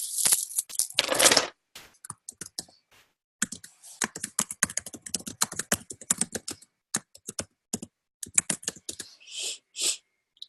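Bursts of keystrokes on a computer keyboard, typed in quick uneven runs with short pauses between, close and fairly loud, with no talking.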